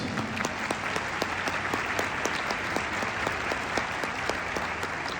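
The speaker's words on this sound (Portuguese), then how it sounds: "Vamos aplaudir ao Senhor, meus amados." A church congregation breaks into steady, sustained applause during an evening service, many hands clapping densely together at an even level for several seconds.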